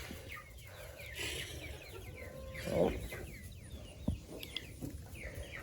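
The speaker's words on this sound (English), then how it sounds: "we're trying to get the chickens to flap a little" Chickens cluck and call in a barn, with a louder rustle or flutter near the middle and a sharp knock toward the end. A person briefly exclaims.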